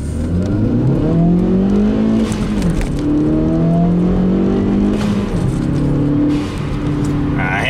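A Chevy Malibu accelerating hard on a straight stretch in cold weather, the engine note rising and falling through gear changes, loud and close from inside the car, with someone talking over it.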